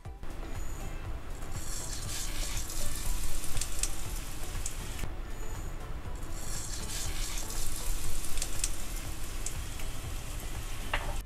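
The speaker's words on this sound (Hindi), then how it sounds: "पैन में अप्रॉक्सीमेटली 1 to 2 टेबलस्पून जितना ऑयल ले लेती हूँ और अब तड़के के लिए मैं ऐड कर देती हूँ थोड़ी सी राई, सफ़ेद वाले तिल और थोड़ी सी हींग।" Mustard seeds, white sesame and asafoetida sizzle in one to two tablespoons of hot oil in a pan for a tadka, a steady close crackling hiss with spattering pops throughout.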